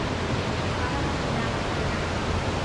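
A waterfall at an outlet mall gives a dense, steady rushing wash of falling water, loud and constant throughout.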